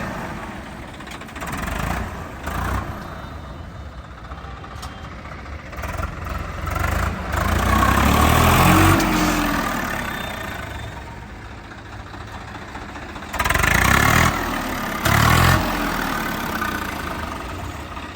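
A Swaraj 855 tractor engine runs steadily at idle, close by, with a continuous low diesel rumble and a few louder surges. No one speaks.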